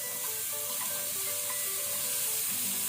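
Vegetables shallow fry in a pan for pav bhaji, giving a steady, close sizzle that holds evenly throughout with light crackling and no voices.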